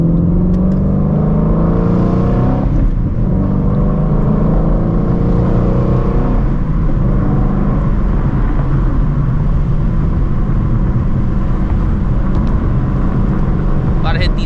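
A Ford Shelby GT350 V8 revving hard through no-lift full-throttle upshifts, loud and close from inside the car, with the engine note climbing, briefly cutting at each shift and rising again, plus occasional voice underneath.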